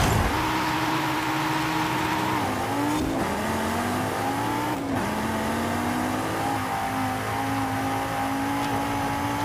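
Race car engines roar through a race in Forza Horizon 5, one loud, close engine holding a sustained drone with gear shifts and rising revs, heard alone without talk.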